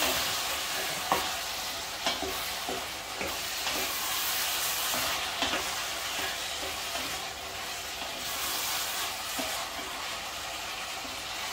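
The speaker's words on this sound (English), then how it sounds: "And mix it up. Mix it up, mix it." Callaloo greens with saltfish and fresh tomato stirred in a hot pan, a steady sizzle broken by irregular scrapes and clacks of the spoon against the pan, close and moderately loud with no voices.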